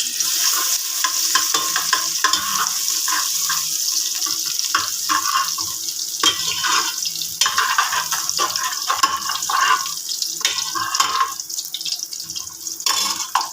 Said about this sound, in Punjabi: ਤੇਲ ਹੋ ਗਿਆ ਗਰਮ ਹੁਣ ਪਹਿਲਾਂ ਆਪਾਂ ਪਾਵਾਂਗੇ ਲਸਣ